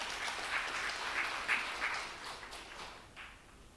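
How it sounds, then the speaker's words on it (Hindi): An audience gives a short round of faint applause for a team of doctors at a health class, with scattered hand claps over a few seconds. "इनके लिए जोरदार तालियां बजा दीजिए"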